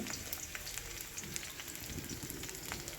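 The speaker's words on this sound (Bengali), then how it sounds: "প্রথমে আমি এখানে সর্ষের তেল নিয়েছি কালো জিরে ফোড়ন দিয়েছি শুকনো লঙ্কা পেঁয়াজ কুচি দিয়েছি" Chopped onion, dried red chili and black cumin seeds frying in mustard oil give a steady, close, dense sizzle with scattered crackles and pops throughout, no talking.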